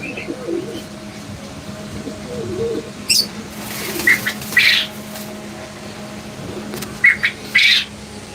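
Fancy pigeons at a busy pigeon market, with a few sharp bursts of wing flapping and bird calls standing out over a low, steady crowd murmur and background hum.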